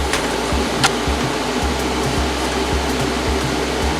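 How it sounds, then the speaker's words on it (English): Steady TIG welding hiss and hum on a custom strut brace for a V8 Impreza, a continuous close buzz with low pulsing changes and no talking. "and I'll go ahead and TIG weld this."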